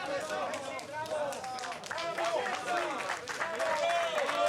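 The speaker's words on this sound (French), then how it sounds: "Il est applaudi, Vincent Lindon, par les photographes." Photographers applauding actor Vincent Lindon at a Cannes film festival photocall, a sustained patter of clapping from a crowd, fairly close, with chirpy shutter-like and chatter sounds mixed in.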